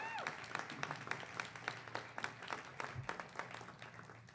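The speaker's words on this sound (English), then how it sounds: "I think that's worth another round of applause" Scattered, fairly faint clapping from an audience at a grand opening, uneven individual claps rather than a full roar, fading toward the end.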